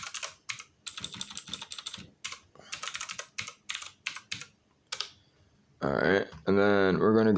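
Quick bursts of clicking keystrokes on a computer keyboard, close and fairly quiet, in irregular runs with short pauses, followed at the end by a brief stretch of speech.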